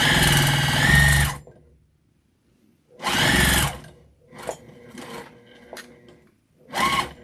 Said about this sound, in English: I'm doing an inch back stitch, and I'm going to stop right up at the top where we stop the pocket.